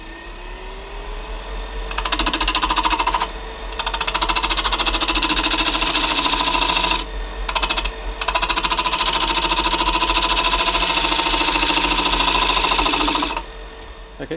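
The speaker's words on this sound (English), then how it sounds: "just going to go back in now with the spindle gouge and just clean up this kind of junction where the profile of the bowl meets the foot." An olive ash bowl spins on a wood lathe while a spindle gouge cleans up the junction between the bowl's profile and its foot, giving a loud, steady machine whir with chattering cutting bursts that pause briefly and resume.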